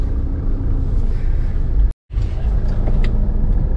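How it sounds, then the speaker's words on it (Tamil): Steady road traffic rumble heard from inside a moving car on a congested route, a continuous low drone with a brief dropout in the middle and no clear talk. "இந்த லைன் செம டிராஃபிக்கு"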